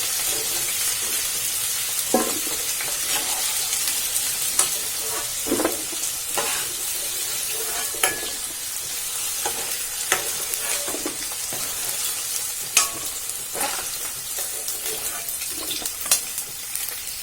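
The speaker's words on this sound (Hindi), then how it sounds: "ये ड्रम स्टिक और आलू फ्राई हो चुकी है।" Drumsticks and potatoes fry in a pan with a steady, close sizzle, punctuated by scattered clicks and scrapes of stirring.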